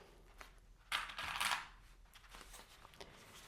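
Plastic sewing clips being snapped onto duffel bag fabric: a short cluster of light clicks and rustles around the middle, faint and close in a quiet room.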